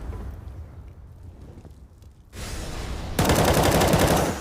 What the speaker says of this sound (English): That's a headshot combined with a couple of body shots on Cajun inside the stairs.